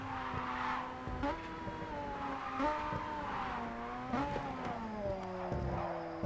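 A racing car engine in the video game JDM: Japanese Drift Master drones and revs at high speed on a highway, pitch climbing and dropping with gear shifts, fairly faint and steady with no talk.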